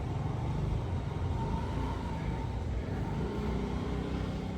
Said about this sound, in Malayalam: കാറ് വരുന്നുണ്ട്